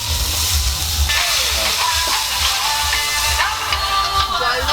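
Water poured into hot frying spices for meat masala gives a loud, steady hiss and sizzle with crackling, close up and unbroken, the kind of cooking done outdoors among nature.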